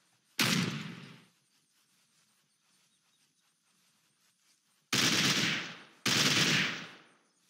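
Gunfire from a weapon in the survival game Unturned, one short burst followed after a pause by two more bursts back to back, loud and close against near silence.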